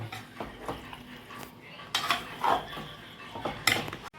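Chicken curry stirred in a pot, a metal spoon scraping and clinking against the pot in a few irregular bursts, close and fairly quiet with no talk.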